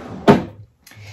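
A plastic storage tub drawer slides open with one sharp close scrape and knock, followed by a pause and a faint rustle.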